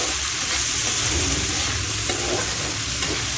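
Spices and potatoes frying in a pan for a Poli fish curry with drumsticks, giving a dense, steady sizzle with occasional stirring scrapes, close and loud throughout.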